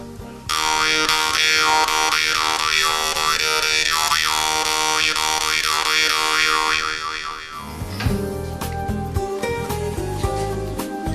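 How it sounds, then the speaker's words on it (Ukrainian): A Vietnamese dan moi jaw harp twangs in a steady, buzzing drone with a rhythmic wah-like pulse, close and loud, then shifts to a rougher, more scattered texture near the end. "Одна з них це в'єтнамська дримба Дан Мої. Так приблизно вона звучить"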